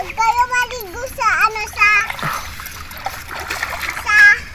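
A child splashes while swimming in shallow river water, light splashes and trickling heard beneath a child's high-pitched talking and squeals, fairly close.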